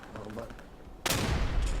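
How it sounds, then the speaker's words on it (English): Artillery fire in the WWII shooter Day of Infamy: a sudden loud broadband blast about halfway in, followed by sustained low rumbling and crackle, after quieter battlefield ambience with a voice underneath. "Yeah, the artillery's coming in."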